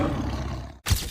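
A tiger roar sound effect rumbles loud and sustained, cuts off abruptly, then a short final burst follows, with no talk over it.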